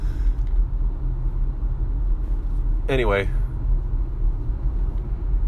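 Constant low interior road rumble from a car moving through traffic, a droning engine-and-tire hum that runs unbroken while someone briefly speaks midway.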